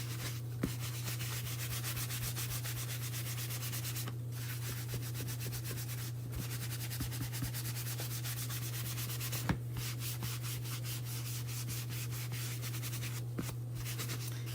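Soft, steady rubbing of a paper towel working chalk paint into a gingerbread decoration, a quiet, close scratchy friction with a constant low hum underneath and occasional faint clicks.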